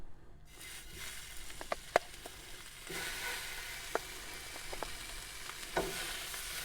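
Pork ribs, cut into individual pieces with fat on them, sizzle in a hot dry pan with no oil, giving a steady frying hiss broken by sharp pops and spits.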